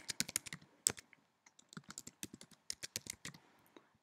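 Someone types a password on a computer keyboard in quick bursts of crisp key clicks with short pauses between them, close and fairly quiet, no talking.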